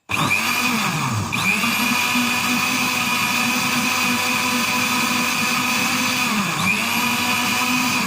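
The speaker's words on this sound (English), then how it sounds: "Dial number 0 to deactivate the blender." A kitchen blender runs at high speed, mixing banana and yoghurt into juice with a loud, steady whirring drone. Its pitch dips briefly twice as the load shifts.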